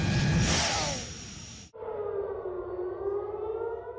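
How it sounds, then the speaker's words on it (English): Air raid sirens wail over Tel Aviv, first a loud broadband roar, then after a sharp cut a sustained rising siren tone with harmonics, heard alone with no voices. "Air raid sirens rang out across Tel Aviv early today"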